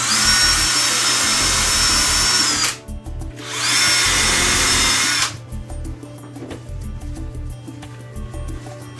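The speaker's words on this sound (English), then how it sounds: "Now we can finish drilling our pilot holes." A power drill whines loudly in two bursts of a few seconds each while drilling pilot holes in kitchen cabinets, separated by a short pause, followed by quieter clicking and handling noise.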